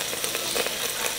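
Carrots dropped into a hot, oiled pot while making beef stew, giving a steady close sizzle and frying crackle with a few brief stirring bumps, no talking.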